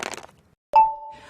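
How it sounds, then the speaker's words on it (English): Ice cracking for a soda: a single sharp crack followed by a clear ringing tone that fades, preceded by a brief rustle and a moment of silence. "That's the intern Dale, cracking ice for a soda."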